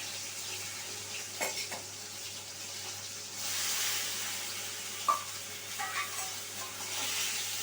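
Paneer cubes frying in oil with a little salt, a steady soft sizzle running throughout, with a few brief clicks and stirring knocks from a utensil breaking through near the pan.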